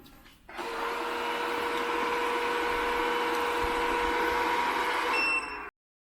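A Ropo Smart robot vacuum cleaner pulls away from its base and runs with a steady, loud motor whir and high whine. It sounds close, with no talk, and cuts off abruptly near the end.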